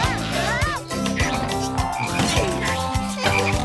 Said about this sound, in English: Why is there a frog?